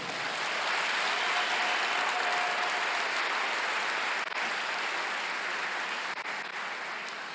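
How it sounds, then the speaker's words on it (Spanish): A church congregation at a Spanish-language Father's Day service applauds loudly and steadily, a dense wash of many hands clapping together that holds for several seconds and fades slightly toward the end. "Denle un aplauso al Señor por eso"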